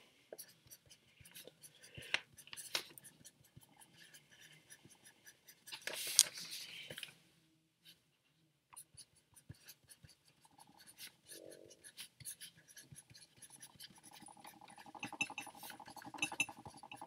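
A pen scratches across paper in irregular bursts of writing, close and quiet, with small clinks and a pause of near silence partway through.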